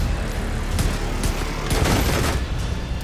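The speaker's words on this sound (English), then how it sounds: "The explosion got another one." Gunfire and blasts from The Division 2 PvP match, a dense, loud burst of rapid shots and booming impacts with sharp cracks scattered throughout.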